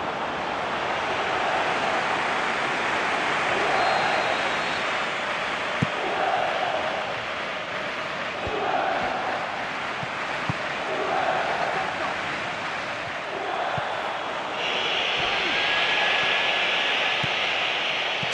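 Stadium crowd in a PES football video game match between Juventus and Manchester City, a broad, steady roar that swells in waves, with a commentator talking over it.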